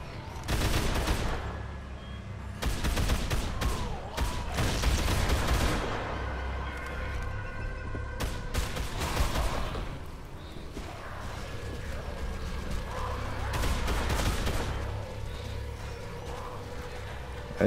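Many players firing together in the co-op video game Dead Island produce dense bursts of rapid gunfire and automatic weapons, rising and falling over mechanical clatter with a low rumble underneath.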